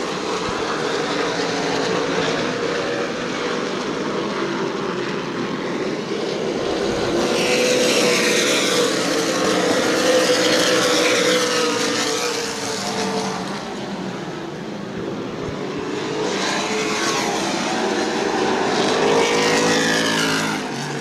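Race cars roar around New Smyrna Speedway during a 100-lap short-track event, a continuous loud engine drone swelling and fading as the pack passes close by, with no talk.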